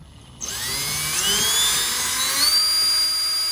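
A high-pitched drill whines up to speed and keeps running steadily, its pitch shifting slightly as it bores.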